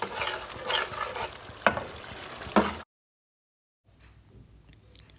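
Keema mince for keema matar sizzles and sautés in a pan with stirring scrapes for a few seconds. Then it drops to silence and returns as faint background sizzle.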